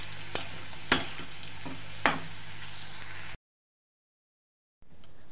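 Potato bhujia frying in a home kitchen pan, a soft steady sizzle with a few sharp scrape-like stirring knocks, then it cuts to silence before a brief faint return.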